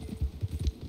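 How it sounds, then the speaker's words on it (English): Horse hooves clip-clopping in Red Dead Online, a quick run of soft, steady thuds at moderate distance. "this man is being carried away by a horse"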